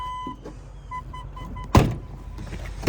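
Power tailgate of a 2006 Range Rover L322 supercharged in operation; a thin electric motor whine with faint repeating ticks, then a solid thunk as it latches, close and alone.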